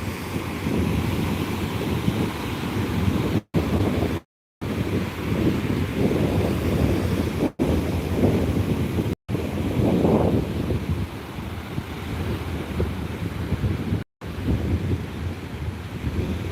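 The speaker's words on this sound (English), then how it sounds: "I hope you enjoy the ocean, the waves" Ocean waves wash and surge continuously nearby while someone walks along the shore, a loud, rough roar blended with wind buffeting the microphone, broken by a few short dropouts.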